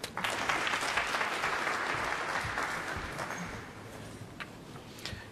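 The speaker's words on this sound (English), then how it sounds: "appreciating the quality of Wilson's play, clapping every pot" Snooker spectators at a tournament quarter-final clap a pot, a dense burst of applause that swells early then gradually thins and fades toward scattered claps.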